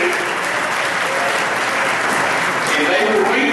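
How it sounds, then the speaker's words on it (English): Loud, dense applause from a football banquet crowd honoring the freshmen players, a continuous roar of many hands clapping at an even level throughout. "Give those freshmen a round of applause."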